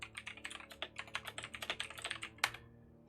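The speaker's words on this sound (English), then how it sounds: "We can hear you typing pretty well." Rapid, uneven clicking of keys on a computer keyboard, close and fairly quiet, with bursts of strokes running continuously for a few seconds and one louder key press near the end, no voices.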